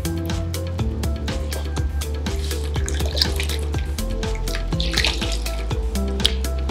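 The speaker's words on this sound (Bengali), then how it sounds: "এইভাবে একটা টিস্যু পেপার ভালো করে প্রথমে জলে ভিজিয়ে নেবে।" Tap water running steadily into a sink as a tissue paper is soaked through for a homemade sheet mask, a continuous close splashing flow with small clinks and drips.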